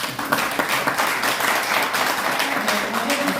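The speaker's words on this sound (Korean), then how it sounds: "큰 박수로 감사합니다" An audience at a youth illegal gambling forum in the National Assembly Members' Office Building claps steadily in dense applause, with a voice speaking over it near the start and a slight swell in the middle.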